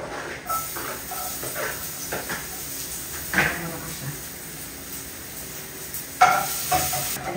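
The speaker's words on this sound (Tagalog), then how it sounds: "Igisa na po natin si giniling, pork giniling." Ground pork is sautéed in a hot pan with a steady low sizzle, and a spatula stirs and scrapes through it, with a couple of louder knocks against the pan.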